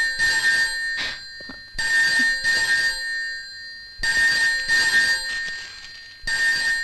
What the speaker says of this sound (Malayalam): ഇവിടെ ഫോണുണ്ടോ?